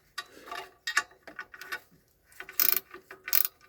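Close ratchet clicking comes in repeated bursts as a wrench tightens car clutch pressure plate bolts, the rapid pawl clicks rising and falling with each stroke and no speech over them.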